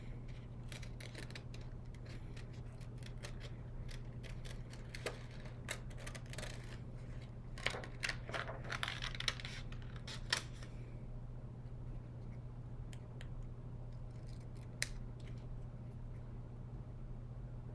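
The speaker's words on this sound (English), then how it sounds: "I'm going to take a black paper and I'm going to cut out the center of his eye" Scissors snip through black paper to cut out a circle for a tissue box monster craft, giving a run of small crisp cuts and rustles over a steady background hum, with no talking.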